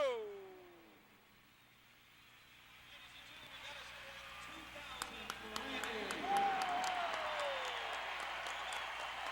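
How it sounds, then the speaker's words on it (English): At a 1978 NBA basketball game between the New York Knicks and Buffalo Braves, a large arena crowd breaks into swelling applause and cheering for a player, distant and echoing, building over several seconds. "They're stopping to applaud for Randy Smith."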